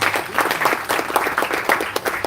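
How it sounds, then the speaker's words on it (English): A crowd at an innovators summit in Navi Mumbai breaks into dense, steady applause, many hands clapping together close by and filling the room without pause. "Can we have a huge applause for Navi Mumbai?"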